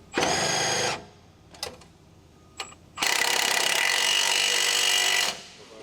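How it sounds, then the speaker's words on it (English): Large electric impact wrench with an 18mm long socket tightening a sway bar end-link retaining nut on a Dodge Ram 1500 front suspension: a loud whirring burst, two brief taps, then a longer sustained rattling run, close up. "Using the large 18mm long socket with the large electric impact wrench, tighten the sway bar in-link retaining nut."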